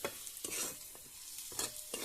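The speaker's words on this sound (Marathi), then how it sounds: "ह्या याच्यामध्ये फोडणी टाकणार आहे" Green chilli tempering sizzles in a hot pan for a drumstick flower vegetable dish: a steady close hiss broken by a few sharper bursts, as if stirred.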